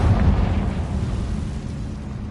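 A Confringo fire spell explodes in Hogwarts Legacy with a heavy, booming blast that rolls into a deep rumble and slowly fades.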